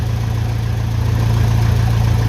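A 1957 Ferguson FE35 tractor with a TVO engine and a newly fitted period distributor idles steadily up close, a loud, even low rumble with no revving and no voices.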